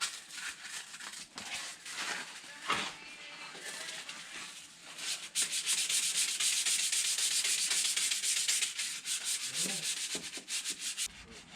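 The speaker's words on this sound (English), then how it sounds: "So now I'm going to go over it with some 320 grit sandpaper." Hand sanding rust repair on a car body with 320 grit sandpaper, with rhythmic scratchy rubbing strokes that start intermittently and then become steady and louder, heard close up.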